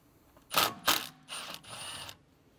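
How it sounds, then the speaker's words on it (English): A ratchet wrench with a T30 bit backs out the rotor set screw on an Audi S4 front brake, four short close ratcheting bursts, the last two longer and steadier. "Next up, we're gonna take this T30 off. This is just a set screw that holds the rotor in place."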